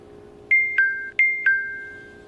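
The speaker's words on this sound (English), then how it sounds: "Should have silenced that phone." Mobile phone ringing: four bright, chiming tones in two quick pairs, each ringing out and fading, loud and close over a quiet low hum.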